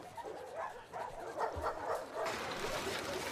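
A dog in the game The Last of Us Part II gives a string of faint yips and whimpering barks, fairly distant and mixed with background noise.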